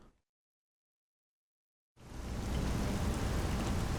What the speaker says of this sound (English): Who turned the rain on?